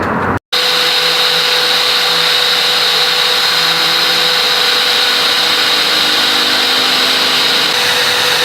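A power drill runs continuously, loud and steady, drilling holes for bolts to attach a fender flare on a Miata, starting after a brief gap and whining without pause.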